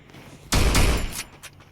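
A loud burst of video game gunfire in Free Fire, a sudden blast of rapid shots lasting about half a second, followed by a fainter echoing report.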